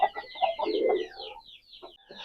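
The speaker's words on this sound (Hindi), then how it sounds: "माशाल्लाह बहुत ही अच्छा मुर्गा है दुरानी साहब का जी।" Aseel rooster, a red and sava mixed-breed bird, giving a run of low throaty clucks and coos at close range, with a short pause before a few more sounds at the end.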